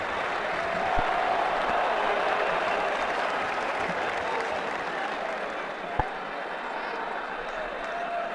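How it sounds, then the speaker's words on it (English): Steady, dense applause from a large cricket crowd in a simulated stadium during Ashes Cricket 2009, a continuous wash of clapping that holds evenly throughout with two brief sharp knocks, no voices over it. "Crowd applaud a great knock"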